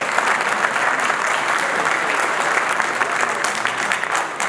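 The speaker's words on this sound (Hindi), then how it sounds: "एक और जोर की ताली बजनी चाहिए" A seminar audience at a national memorial event claps in steady, sustained applause that fills the hall throughout, dense and loud with no pauses.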